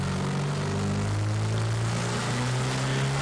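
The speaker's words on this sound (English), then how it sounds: "With the spring pressure setting at its lowest value, the turbo spool up is a bit laggy." A turbocharged car engine, its boost controller at the lowest spring pressure setting, drones loudly and steadily, the tone slowly rising as the turbo lags in spooling up.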